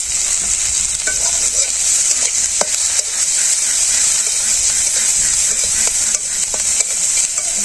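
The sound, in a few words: onions and chilies being stir-fried in a pan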